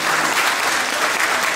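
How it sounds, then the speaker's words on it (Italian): An audience at a vernacular poetry event in Lagonegro claps in a brief, steady, loud burst of applause with no voices over it. "Lei l'applauso l'ha fatto forte"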